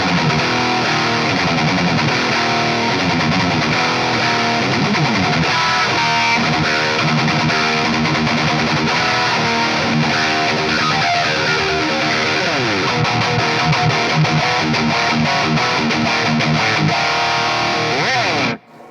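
High-gain distorted electric guitar played through the red channel of an EVH 5150III 6L6 amplifier, a dense saturated riffing tone that runs loud and continuous, with a voice briefly audible.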